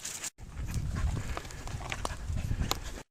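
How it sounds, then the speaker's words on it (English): Several horses approach along a creekside trail in a state park, soft hoof thuds and scuffs rustling close by over steady outdoor noise, with scattered sharper knocks. "Looks like horses. Yeah, a bunch of them."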